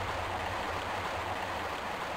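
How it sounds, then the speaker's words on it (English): Steady broadband rush of flowing water in the Tomb Raider 1 Remastered video game, Lost Valley level, a continuous near stream or waterfall wash with a low rumbling undertone and no talking. "Oh, it's the water."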